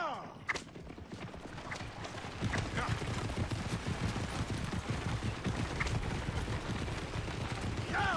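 Horse hooves pounding in rapid rhythm during a gallop in Assassin's Creed Origins, steady and fairly loud, with scattered game sound effects over a continuous low rumble.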